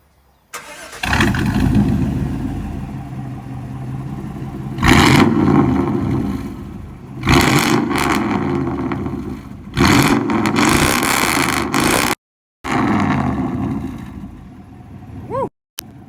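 Chevy 5.7L V8 truck (88-98 era) with an X-pipe exhaust revs hard in several bursts, each loud roar rising and falling back to a rumbling idle, close by with brief gaps of near silence.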